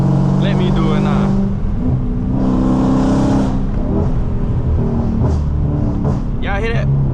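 Car fitted with catless midpipes and an MBRP race exhaust, crackling and popping in bursts as the throttle is tapped, loud and close, over a low rumbling idle with someone talking.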